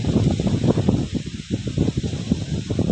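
Cold wind blows outdoors, a steady gusty rush buffeting the microphone with rustling texture and no talking.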